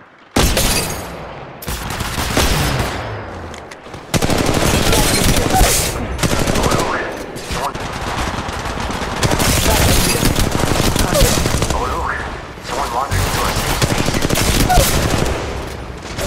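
Sustained automatic gunfire rattles through an Apex Legends Mobile fight, loud close bursts of rapid shots broken by brief pauses, with occasional booms and a character voice calling out between volleys.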